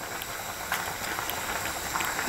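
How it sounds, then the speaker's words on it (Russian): Whey and sauce for meatballs bubble and simmer steadily in a hot frying pan, a continuous close crackling boil with small pops throughout. "И для вкуса я сыворотку тоже вливаю в сковородку."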